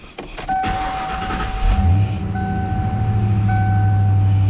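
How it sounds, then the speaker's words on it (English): A 5.0L Ford Mustang (1987–1995) with a low-voltage problem cranks and catches, then settles into a steady low idle while a chime beeps intermittently. "So I'm gonna go ahead and start the car."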